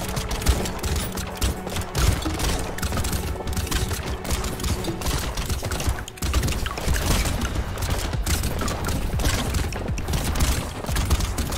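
Rapid gunfire in the roguelike arena shooter Brotato, a dense continuous barrage of overlapping shots and impacts with a brief dip midway, loud and unbroken.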